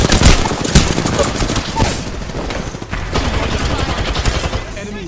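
Rapid automatic gunfire in Apex Legends, loud close bursts of shots rattling over several seconds with more distant firing behind, and a voice briefly under the shooting.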